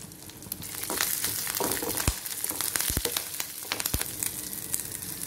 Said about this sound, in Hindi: लहसुन और हरी मिर्ची को हमें ज़्यादा फ्राई नहीं करना है, बस इतना ही फ्राई करना है